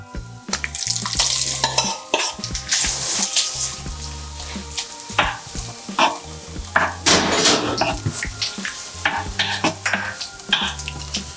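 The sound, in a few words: butter sizzling in pan with prawns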